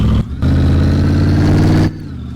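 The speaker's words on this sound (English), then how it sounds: "It's a little loud when we push it because it has no exhaust on the front." A loud, rough video game truck engine with no exhaust roars close up, a throaty unmuffled rumble that dips briefly, surges again, then eases off.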